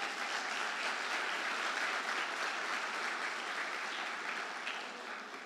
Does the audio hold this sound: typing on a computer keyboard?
no